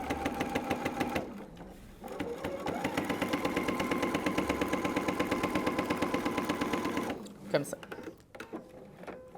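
A sewing machine topstitches along the edge of a garment pocket with a fast, even mechanical rattle, pausing briefly before running again, close by, with someone speaking French softly.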